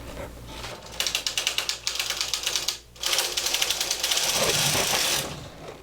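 Carriage of a Brother 260 bulky knitting machine pushed across one row with the punch card engaged, a fast, loud, even clatter of needle clicks, a brief pause, then a smoother sliding rattle to the end.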